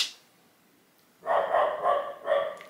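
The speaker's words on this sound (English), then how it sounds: "my dog is going crazy." A pet dog barks indoors, three or four loud close woofs in quick succession after a moment of quiet.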